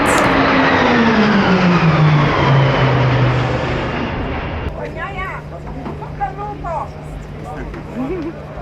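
A display aircraft roars past during the aerial show before the MotoGP race at Phillip Island, loud and close, its pitch sliding down as it passes and fading, followed by people talking over the distant drone.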